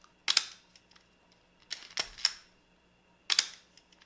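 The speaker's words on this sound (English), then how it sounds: "I'm going to take the back door of the camera off to illustrate a little further how the shutter works." A Leica M camera with its back door removed fires its shutter three separate times, each a crisp, close double click from the two curtains, with quiet pauses between.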